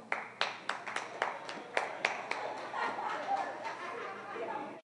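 An audience in a comedy juggling show breaks into applause, a handful of distinct claps building into a brief, moderately loud burst mixed with chatter and a little laughter, then fading out.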